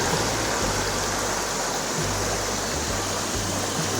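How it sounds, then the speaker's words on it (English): Waterfall at Upper Graveyard Falls on the Blue Ridge Parkway in North Carolina, a constant broadband rush of falling water filling the scene, loud and close, steady throughout with no voices. "this is Upper Graveyard Falls here"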